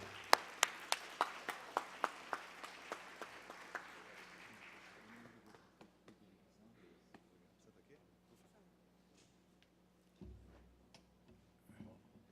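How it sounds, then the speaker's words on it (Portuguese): Applause at a solemn session of a legislative assembly honouring public advocacy: sharp rhythmic clapping that starts strong and fades over several seconds into scattered claps, followed by quieter room sound and a voice. "Salva de palmas para a maior autoridade da Advocacia Nacional."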